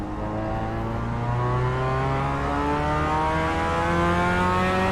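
A race car engine in the iRacing video game revs and climbs steadily through the gears, a loud, continuous rising whine with no other sounds.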